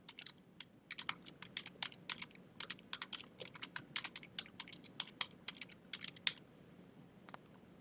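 Rapid keystrokes on a computer keyboard as a form title is typed, crisp close clicks in quick uneven bursts with short pauses, alone in a quiet room.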